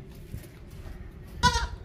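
A single short goat bleat, fairly close and clear, rising briefly above steady low background noise from a livestock setting.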